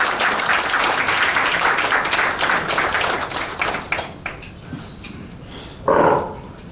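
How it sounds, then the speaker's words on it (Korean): A breakfast lecture audience at a forum in Seoul applauds to welcome the forum chairman, with dense, lively clapping that thins out and fades over several seconds before a single voice briefly speaks. "큰 박수 부탁드리겠습니다"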